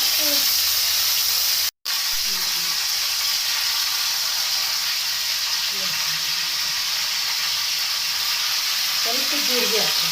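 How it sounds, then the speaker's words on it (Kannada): Curry leaves crackle and sizzle in hot oil for a Kannada-style togarichi palya, a steady loud hiss with scattered pops that drops out briefly near the start, then continues without talk. "ಈ ಥರ ಕರಿಬೇವು ಇದನ್ನ ಹಾಕ್ತೀನಿ"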